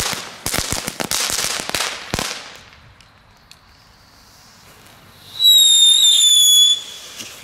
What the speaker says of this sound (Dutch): Knetterlintje erbij.